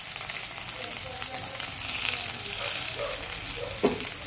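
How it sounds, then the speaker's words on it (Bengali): Chopped garlic sizzles steadily in hot oil in a kadai (wok) while cauliflower Manchurian is cooked, a continuous close hiss with a brief clatter of stirring near the end. "কড়াইতে আমি কিছুটা তেল গরম করে নিয়েছি, তেলের মধ্যে আমি রসুন কুচিগুলো দিয়ে দিচ্ছি"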